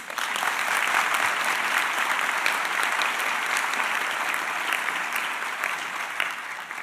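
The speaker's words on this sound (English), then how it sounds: "give yourselves a warm round of applause" Graduates at a healthcare sciences declaration ceremony give themselves a warm round of applause, a full, sustained burst of clapping from a large indoor crowd that fades slightly toward the end.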